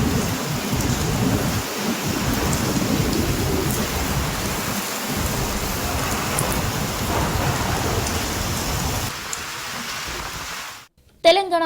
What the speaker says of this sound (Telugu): తెలంగాణలోని పలు జిల్లాల్లో భారీ వర్షాలు కురిశాయి.